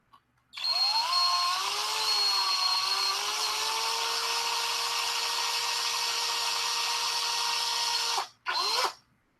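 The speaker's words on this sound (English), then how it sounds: "I'm going to drill a teeny tiny little hole into the foot" A small power drill bores a tiny hole into the foot of a painted miniature figure, a steady high-pitched whine lasting about eight seconds, then a brief stop and a short final burst.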